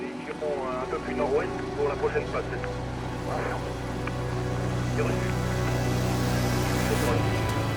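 A steady rotor drone of a Navy helicopter flying alongside a rescue boat at sea runs throughout, rising slightly toward the end, with a voice talking over it early on.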